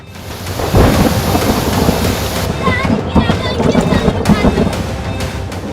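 A heavy thunderstorm roars with dense rain and rolling thunder during flooding as Ganga river levels rise in Uttar Pradesh, loud and continuous throughout with a few sharper crackles.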